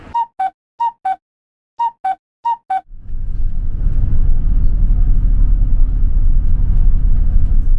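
A run of short electronic beeps gives way to the steady, loud rumble of a bus engine as the bus climbs a mountain road through the hill villages of Shodoshima island.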